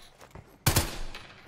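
Gunfire from Call of Duty Black Ops Cold War, a sharp loud burst of a few rapid shots arriving abruptly after a quieter stretch, then a lingering tail.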